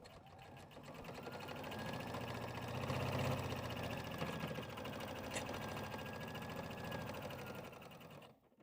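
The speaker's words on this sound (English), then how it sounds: "let's start sewing right on this line we just drew" A sewing machine stitches the boxed corners of a fabric tote bag along a marked line, running in a steady, continuous mechanical whir close to the microphone for about eight seconds before stopping.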